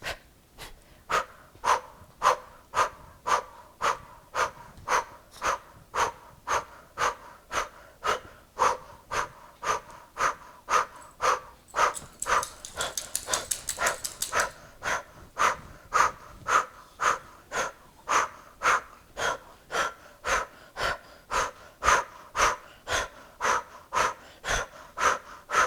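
A person doing yoga breathes forcefully and rhythmically up close, with sharp, evenly spaced breaths about once a second that repeat steadily for the whole stretch, with a brief longer breath near the middle.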